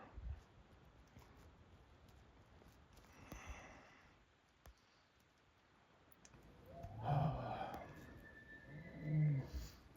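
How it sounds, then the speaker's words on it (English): A bull elk calls close to a forest camp, its two loud, hoarse bellowing bursts rising out of quiet woodland in the second half, with faint rustling and distant sounds before. "There's a bull elk right there."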